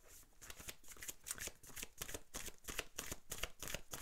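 Tarot cards shuffled in steady rapid bursts, crisp riffling flutters repeating about every half second, close and fairly loud with no voices.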